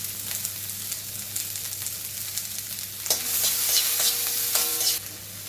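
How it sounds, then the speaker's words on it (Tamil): Onion and green chilli frying in a little oil for an aloo paratha filling, a steady crackling sizzle under intermittent stirring scrapes, with sharper clinks of the spoon against the pan in the second half. "கொஞ்சமாக எண்ணெய் போட்டாச்சு, கொஞ்சமாக ஆனியன், அப்புறம் கொஞ்சம் கிரீன் சில்லி"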